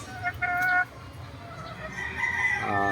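A yellow-legged hatch gamefowl rooster crows nearby, its call rising over steady background noise with other fowl sounds.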